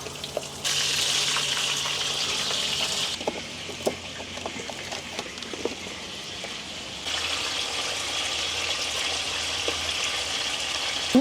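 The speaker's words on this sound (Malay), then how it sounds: "Minyak yang sama saya akan goreng ikan terbuk masin" Salted Sarawak terubok fish frying in palm oil in a home kitchen, a continuous loud sizzle with scattered sharp pops and crackles. The sizzle drops back for a few seconds in the middle and then surges again.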